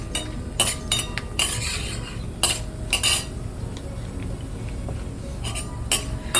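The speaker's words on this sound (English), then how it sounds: "I'll be stirring this mixture so that the dal also gets a bit golden color and crisp." A spatula stirs urad dal and peanuts in a pan, giving intermittent clinks and scrapes against the metal in an irregular rhythm over a low steady background, close and moderately loud, with no talking.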